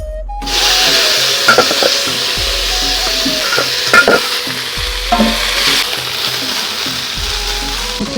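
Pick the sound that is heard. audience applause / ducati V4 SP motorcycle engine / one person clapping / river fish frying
river fish frying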